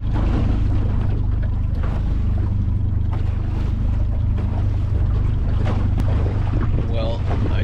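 Strong wind buffets the microphone and rough seas slosh against a fishing boat off the coast of southern Vancouver Island, a loud continuous rumble with intermittent splashes and creaks throughout.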